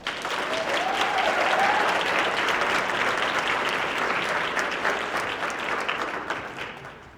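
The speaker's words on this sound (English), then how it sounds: "Let's give them a round of applause." Sustained, loud audience applause at a university student awards ceremony, a continuous roar of clapping with a faint voice near the start, fading out toward the end.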